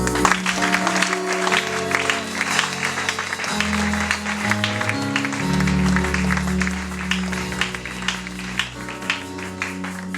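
A church congregation applauding for Jesus, sustained clapping layered over loud music with held organ-like tones, steady and full throughout.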